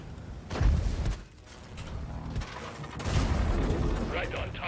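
Tank cannon fire and explosions in the video game World of Tanks, heavy booming blasts and rumbling battle noise mixed together, moderately loud.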